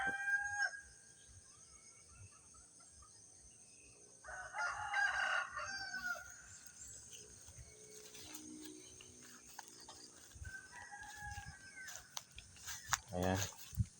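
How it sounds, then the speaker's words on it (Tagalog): Chickens and a rooster on a small farm, with repeated crowing calls rising over steady clucking and hens' chatter, fairly close, while a person talks quietly at times underneath. "Ayan yung manok."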